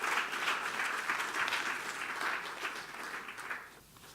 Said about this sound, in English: One round of applause for His Excellency Honorable Guy Myers.